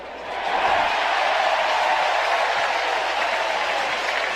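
Some 40,000 fans at a baseball stadium cheer an overturned call that rules a ball foul, a broad, sustained roar that swells quickly and holds steady at a distance without letting up.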